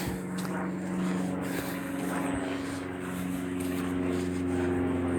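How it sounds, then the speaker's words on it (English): A propeller airplane flying overhead, its steady droning hum holding for several seconds at moderate loudness, with no speech over it. "Nice plane."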